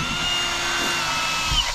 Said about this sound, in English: So we're just pre-drilling